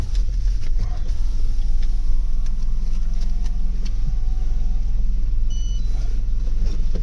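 Busy road traffic heard from inside a car, a steady low engine and road rumble with passing vehicles and occasional faint electronic beeps, continuous and fairly loud throughout.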